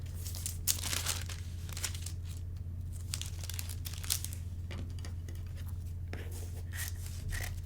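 A paper sleeve pattern folded by hand, soft close crinkling and rustling paper in irregular bursts over a steady low hum.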